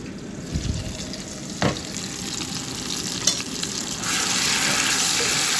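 Curry paste frying in oil in a pan for paneer curry, a steady sizzle with a few sharp clinks and scrapes of stirring, the hiss growing slightly louder toward the end.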